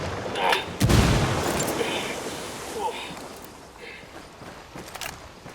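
Grenade explosions in Ghost Recon Wildlands during a firefight at a coca farm, one heavy close blast followed by a long rumbling decay, then fainter distant booms and scattered shots, with a voice speaking over it.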